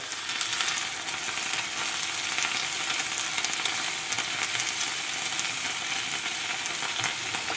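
Cafreal masala for Goan pomfret frying in oil, giving a dense, continuous close-up sizzle and crackle that holds steady throughout with no voices.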